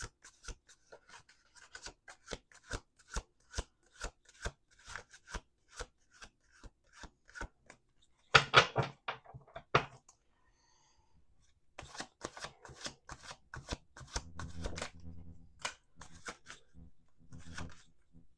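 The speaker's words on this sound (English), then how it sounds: "Let's do 2 more shuffles." Quick crisp riffle-snaps of a deck of tarot cards being shuffled in a steady series, then a brief pause followed by softer sliding and tapping of cards, close by.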